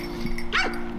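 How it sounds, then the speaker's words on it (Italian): Hunting dogs bark during a wild boar hunt, a single close, sharp bark with a short yelping tail rising over a steady low hum. "Il mio divertimento è proprio questo, ascoltare i cani, no?"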